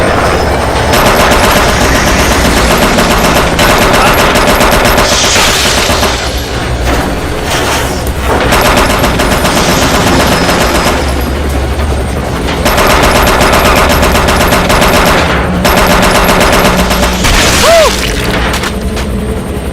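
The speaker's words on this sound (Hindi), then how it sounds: "मैं उस पर फायर करने वाला हूँ।" Sustained, loud machine gun bursts fired from a helicopter in a movie action scene, rapid rattling volleys continuing almost without pause over a heavy rotor and engine drone.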